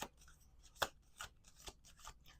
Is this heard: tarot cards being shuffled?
yes